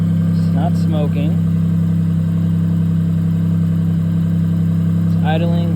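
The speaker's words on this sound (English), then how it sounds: "It's idling normal again." A Suzuki Cappuccino engine, just repaired after a coolant hose fault, idles steadily and loud with the hood open, a constant low hum running throughout while someone talks over it briefly.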